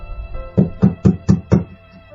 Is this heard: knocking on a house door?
yes